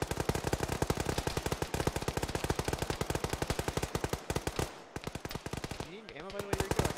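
Rapid sustained automatic gunfire in the military game Arma, a dense rattle of full-auto shots running almost continuously, with a short break and a voice heard briefly near the end.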